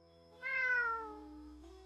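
One clear cat meow, drawn out and falling in pitch, heard alone and fairly close against a quiet background.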